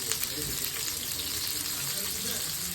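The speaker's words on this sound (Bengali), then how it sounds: "এই যে আমি একটা একটা করে আমি ভেজে নিচ্ছি।" Dhaba-style chicken pieces fry in hot oil with a loud, dense, continuous bubbling sizzle that stays steady throughout, close by and with no clear talk.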